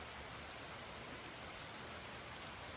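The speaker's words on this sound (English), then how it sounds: "and it rains some more, and then it rains some more" Steady rain falling on a farm, a continuous even hiss of drops with no break or change throughout, moderately quiet and with no voices.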